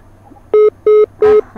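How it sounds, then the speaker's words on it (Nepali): Phone tone after a caller on a Nepali phone-in broadcast drops off the line: three loud, evenly spaced beeps and the start of a fourth, steady and clean over a quiet background. "फोन कट भइसकेको छ,"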